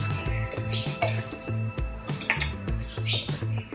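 A spoon clinks and scrapes rhythmically against a bowl while dhokla batter is mixed after oil is added, steady repeated metallic taps close by.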